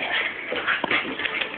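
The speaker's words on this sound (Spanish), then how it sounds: "Son mis dos perros." Two pet dogs whimpering and yipping softly indoors, a short run of thin, close whines with one brief sharper yelp midway.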